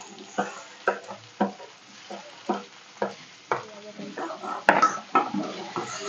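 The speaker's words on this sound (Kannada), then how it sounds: "ಸೊ ಅದ್ರ ಜೊತೆನೇ ಈರುಳ್ಳಿನೂ ಫ್ರೈ ಆಗಿಬಿಟ್ರೆ ಚೆನ್ನಾಗಿರುತ್ತೆ." Onions and tomatoes frying in a pan for shavige uppittu, a spatula scraping and stirring in repeated strokes against the pan over a steady low sizzle, close and fairly loud.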